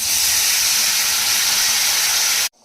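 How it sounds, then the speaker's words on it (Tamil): Loud, steady sizzling hiss as tamarind water hits a hot pan, cutting off abruptly near the end; close and continuous, no voices. "இப்போது நம்ம கரைச்சி வச்சுருக்கிற புளி தண்ணியை இதோட ஆட் பண்ணிக்கலாம்."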